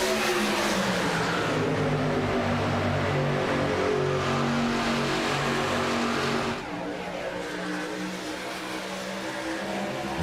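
Three Nitro trucks race at a VSpeed Contender Series event, their engines a loud, continuous droning roar that dips slightly partway through and then holds on, with no voices over it.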